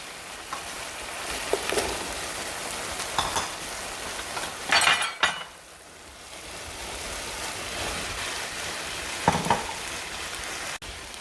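Squash hits a hot pan of cooking tomatoes for Mexican-style calabacitas, bringing a steady close sizzle with bursts of stirring and a few clinks of a utensil.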